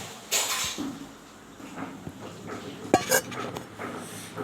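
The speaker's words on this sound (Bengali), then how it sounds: "এবার আলুগুলো কেটে নিব।" A knife cuts through potatoes on a board in a home kitchen. A few sharp close taps and scrapes come at irregular moments over a quiet background.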